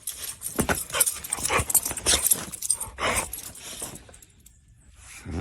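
A dog barks and yelps outdoors in a garden, several sharp close calls in an irregular burst over the first four seconds, then a quieter pause before another bark near the end.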